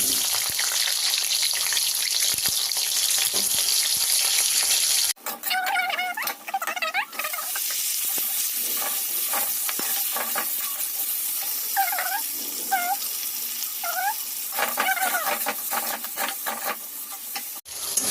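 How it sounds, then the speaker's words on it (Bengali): Cut potatoes crackle in hot oil from a bhindi aloo dish, a steady broadband sizzle throughout, close and loud, with brief scraping stirs and a few faint squeaky background sounds partway through. "আবার এই তেলে দিয়ে দিব এখন কেটে রাখা আলু"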